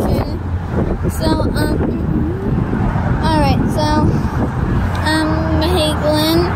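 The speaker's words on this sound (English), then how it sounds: "It's very windy." Strong wind gusting at a sandy beach, buffeting the microphone with a heavy low rumble that runs the whole time, while people talk close by over it.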